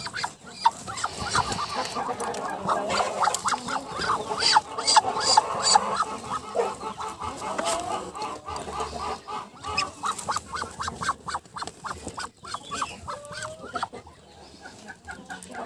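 Ducks honk and cluck in agitated bursts close by as eggs are taken from under a black-and-white duck sitting on a nest, the calls continuing steadily throughout.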